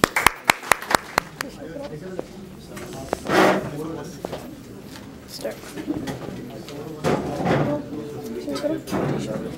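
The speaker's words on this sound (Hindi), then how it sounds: "जी भरपूर तालियों में आप इस्तकबाल करें जी हाजी जमील साहब का।" Applause from an audience welcoming Haji Jamil at a PML-N political gathering in Canada, a burst of sharp claps at the start followed by scattered clapping and crowd noise under a voice.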